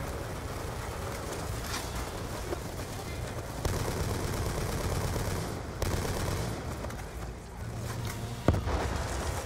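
Sustained battle gunfire in Call of Duty Black Ops II, a dense continuous barrage of rifle and automatic fire with sharp bursts and explosions throughout, with shouting voices mixed into the din.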